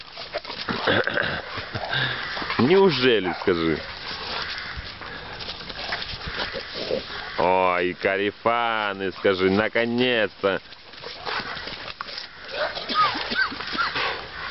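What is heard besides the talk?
dogs playing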